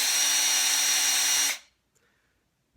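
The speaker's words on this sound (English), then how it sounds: "you can actually even run the drill twice very quickly" A power drill bores out the cavity in a lead bass jig head, a loud steady high-pitched whine up close for about one and a half seconds before cutting off abruptly into near silence.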